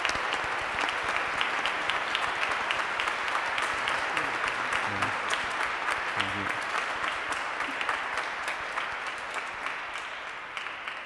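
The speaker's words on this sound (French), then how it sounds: "On peut manifester notre joie par une bonne main d'applaudissements." Steady applause from a church congregation at an Easter Vigil service, many hands clapping together for several seconds, gradually fading toward the end.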